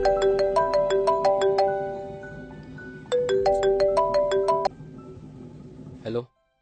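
A phone ringtone plays a bright, repeating electronic melody in two close, loud phrases, then cuts off. A brief clatter follows at the end, with no talk during the ringing.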